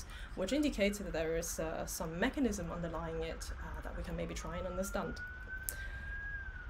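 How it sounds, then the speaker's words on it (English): A siren wails faintly in the distance beneath a person talking steadily, its rising tone drifting in the background. "I apologize for the siren in the background."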